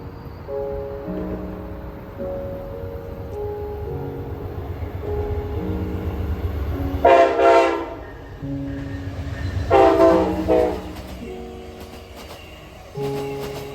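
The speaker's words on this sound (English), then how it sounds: "This was the first Amtrak train I saw with a bit of a horn show" An Amtrak train rolls past with continuous rail rumble and clatter, sounding its horn in two loud blasts, then a shorter third, the tones swelling over the steady passing noise.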